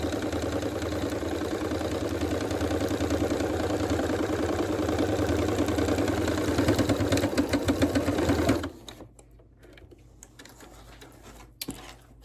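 A sewing machine runs a quarter-inch seam along fabric for a yard flag, humming loudly and evenly for about nine seconds before stopping and leaving faint handling sounds.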